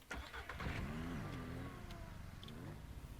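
A car engine in the video game Ranch Simulator starts and revs, rising and falling engine tones sweeping up and down over a steady low rumble, fairly quiet.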